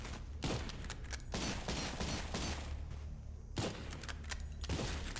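Rapid enemy gunfire in the retro shooter Cultic, with repeated sharp bursts of shots cracking out in quick clusters, loud and close, separated by brief lulls.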